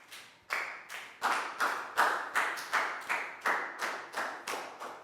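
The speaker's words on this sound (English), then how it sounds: "a big round of applause for Pak Bung" Students in a classroom clap in a slow, regular rhythm, about ten distinct reverberant claps spaced evenly, each ringing briefly in the room.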